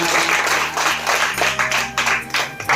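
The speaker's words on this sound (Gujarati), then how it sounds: "સરસ તાળીઓ પાડો એમને" Children in a classroom clap together for a classmate after a Sanskrit word game. The applause is close and lively, with uneven bursts throughout a short stretch.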